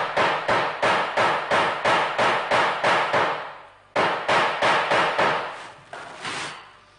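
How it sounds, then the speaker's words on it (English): A hammer strikes a rivet being set into a leather belt, about a dozen sharp, evenly spaced blows in two bursts with a brief pause between, close and loud with no talk. "Then use your hammer"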